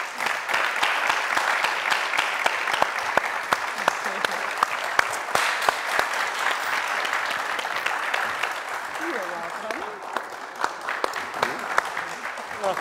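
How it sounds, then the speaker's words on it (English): An audience claps in steady, dense applause at a television soap and series event, loud and sustained throughout with sharp individual claps standing out. "A round of applause, please."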